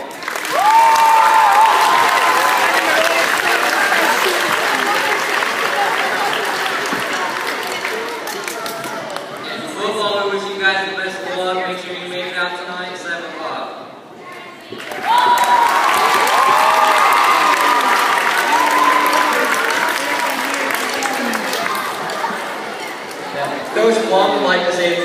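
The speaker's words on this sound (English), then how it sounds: "Let's give them a round of applause." Crowd applause and cheering fill a school pep rally gym, loud and sustained, dipping into a stretch of chatter and a faint tune midway before surging back to full-volume clapping and shouts.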